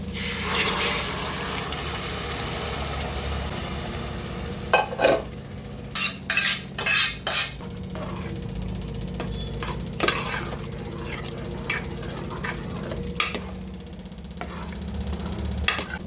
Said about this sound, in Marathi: हे अळू आता मी फोडणीला घालते